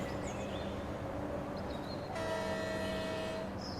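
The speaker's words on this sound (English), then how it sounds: "train noises." A train passes in the bus-driving game Bus Bound, with a steady low rumble throughout and a sustained horn sounding over it midway, fairly close and loud.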